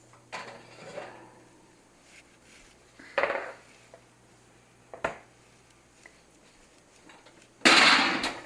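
Cast iron skillets set into an oven, a few scattered metallic knocks and clunks with a louder rattling clatter at the end, close by in a quiet kitchen with no talking.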